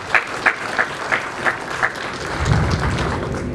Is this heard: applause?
yes